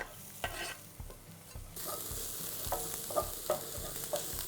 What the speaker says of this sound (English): Now that our spring onions, garlic, ginger and chili are cooked and kind of smelling magnificent